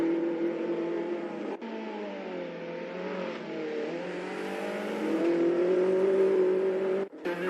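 A race car exits the pits in the Assetto Corsa video game, its engine whining steadily and rising in pitch as it accelerates, moderately loud with a couple of brief cut-outs.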